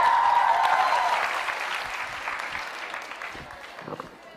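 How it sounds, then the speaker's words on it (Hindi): A quiz show audience applauds a participant named Diksha, steady clapping that starts loud and slowly tapers off over a few seconds, with a faint voice underneath at the start. "तालियां जोरों से बजाइए दीक्षा के लिए।"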